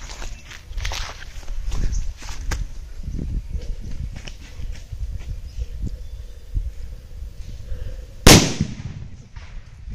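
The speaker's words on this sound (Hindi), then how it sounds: "अब हम लोग इससे चेक करेंगे, देखेंगे यह सुतली बम कितना ऊंचाई तक लेकर जाता है।" During Diwali, scattered footsteps and small crackles lead to one sharp, loud sutli bomb firecracker blast near the end, followed by a brief fading echo.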